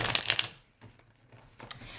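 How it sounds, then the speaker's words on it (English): A deck of chakra oracle cards is shuffled by hand, a quick papery riffle that fades into light scattered flicks and a final brief burst of card noise. "as I shuffle the deck, you will literally see cards fly out, you will see cards flip over"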